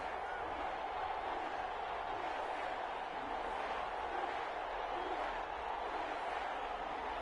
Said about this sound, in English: This crowd is ready as their guys get set to match up between the Los Angeles Chargers and the New Orleans Saints.